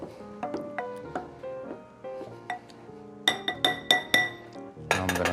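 Glassware clinks repeatedly while a chef mixes rum cocktail ingredients in a kitchen, a series of bright, close ringing taps that grow louder and denser toward the end, with no one speaking.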